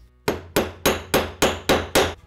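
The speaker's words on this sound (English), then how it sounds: "Now we're gonna hammer it close with the setting tool and the anvil" Seven sharp, evenly spaced hammer blows set a metal rivet cap using a setting tool on an anvil while making a Mason jar coffee cup craft; the strikes are close, loud and ring briefly with no talking.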